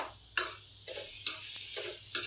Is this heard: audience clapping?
no